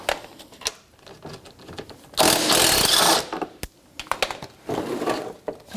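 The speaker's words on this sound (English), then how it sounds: "With a 12mm socket, you have 2 mounting bolts down the bottom part of this radiator fan shroud that goes to the radiator." A 12mm socket ratchet loosening the lower radiator fan shroud bolts on a 2006-2012 Toyota RAV4 gives close, rapid clicking bursts, with one louder sustained rattle in the middle and scattered metallic ticks around it.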